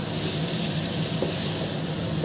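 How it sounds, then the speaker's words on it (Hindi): Grated paneer stirred into cooked tomatoes in a hot pan gives a steady, close sizzle with soft stirring scrapes underneath, continuous and without talk. "अब इसमें ग्रेटेड किया हुआ पनीर को डालेंगे और इसको अच्छे से मिक्स करेंगे।"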